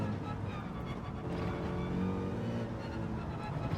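A Mercedes race car engine roars steadily in Gran Turismo 7 at Suzuka, a sustained mid-level drone with slight revving variation throughout.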